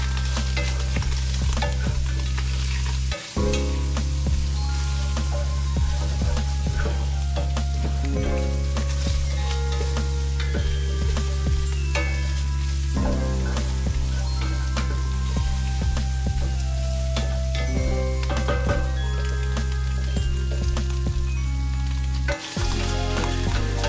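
Sausage sizzles and fries in a pan for New Orleans-style gumbo, a loud, continuous crackling hiss with occasional stirring scrapes and clunks, close up and without talk.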